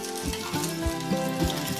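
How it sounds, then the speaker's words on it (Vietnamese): Rice crust frying in very hot oil over high heat, a steady close sizzle with bubbling crackle and a few soft pulses of stirring or turning, with no voices. "Lúc chiên thì mình sẽ chiên với lửa lớn."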